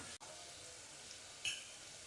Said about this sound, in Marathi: एक मिनिटभर आपण हे सर्व परतून घ्यायचं